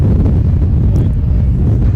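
Steady, blustery wind buffets the microphone at an Australian rules football match, a constant low rumble with gusty fluctuations and no voices.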